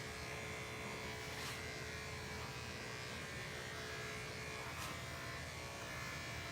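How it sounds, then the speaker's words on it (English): A 2-speed dog hair clipper fitted with a 10 blade runs with a steady, moderate electric buzz at low level, with two brief louder swells as it passes through hair. "here's my 2-speed 10 blade, okay? A little slower, right? It'll still accomplish the job."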